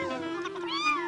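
A single cat meow, close and clear, rising and falling over about one second, heard alone as part of a read-aloud of The Napping House storybook.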